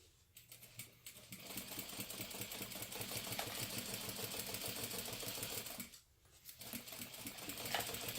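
A home sewing machine stitches fabric layers together with long basting stitches at its longest stitch length, a steady mechanical whirring chatter that runs continuously, drops out briefly near the end, then resumes.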